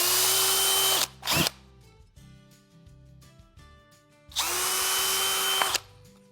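Power drill driving screws into the back of an RTA cabinet while installing a pull-out tray, with two loud, sustained whirring bursts separated by a pause filled with faint clicks and handling.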